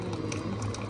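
Hot water streams from an instant water heater dispenser in a short, steady gurgling trickle, close and fairly loud, with no talking.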